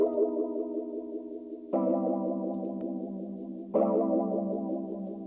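Wurlitzer 200A electric piano run through a TAL chorus, sustained chords shifting twice with a wide, warbling shimmer; loud and alone, no voices.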